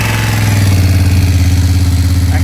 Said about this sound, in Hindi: मैं एग्जॉस्ट नोट सुनाता हूँ आपको इस बाइक का।